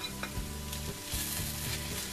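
Mushrooms frying in a pan with onion and carrot for braised cabbage, a steady close sizzle with bursts of stirring and scraping, no talking.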